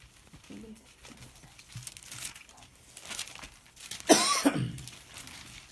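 A single sharp cough bursts out near the end, loud against faint background rustling and shuffling.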